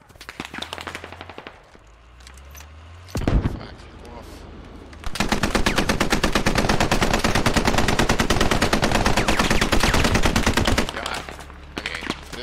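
Sustained automatic gunfire rattles close and loud for several seconds in the military shooter Squad, preceded by scattered single shots and a sharp blast, with a player's voice in the background.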